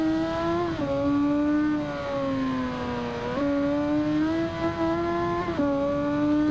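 In the racing game Ride 2, a 2015 Suzuki GSX-R1300 Hayabusa accelerates from a race start, its engine whining steadily higher with three distinct upshifts that drop the pitch before climbing again, loud and continuous.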